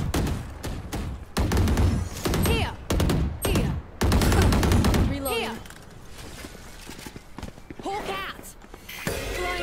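Rapid bursts of gunfire in an online shooter video game, loud clustered volleys in the first half giving way to scattered single shots, with players' voices talking over the action.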